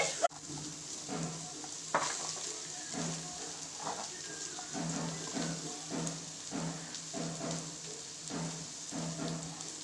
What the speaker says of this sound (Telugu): కట్ చేసి పెట్టుకున్న ఆనియన్స్ వేసేసుకోవాలి.